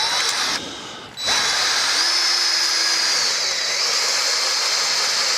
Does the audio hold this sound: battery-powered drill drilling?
yes